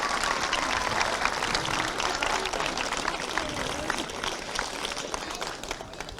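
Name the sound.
applause for Kinnegad GAA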